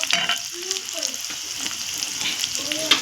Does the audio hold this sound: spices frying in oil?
yes